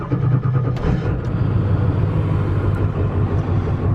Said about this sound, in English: let's give her a good cold start.